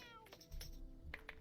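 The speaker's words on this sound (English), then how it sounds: "coffee's being so cute, but I don't have my cat cam plugged in." A cat named Coffee gives a short, faint meow near a computer, mixed with soft keyboard taps and clicks.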